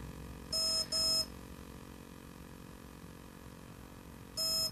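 Two quick electronic beeps, then a third after a long pause, come from a TowerPro MAG 8 18A ESC being programmed by stick. They are bright and tonal over a low steady hum.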